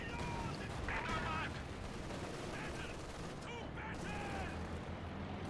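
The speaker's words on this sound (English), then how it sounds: "Very annoying that this MG is covering everything." Machine gun fire in a competitive online World War II shooter match, a steady mid-level clatter of bursts running under the game's battle ambience, with a few sharper crackles near the start.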